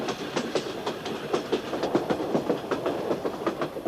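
A train runs along the railway through the Sacred Valley of the Inca in Peru, a steady clickety-clack of wheels on rail joints repeating in a quick rhythm over a low rumble.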